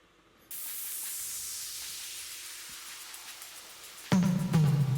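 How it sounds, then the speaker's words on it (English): A long noisy sweep effect in an electronic music track rises and slowly fades over several seconds, then punchy drum hits break in loudly at the end. "Got tons of sweeps."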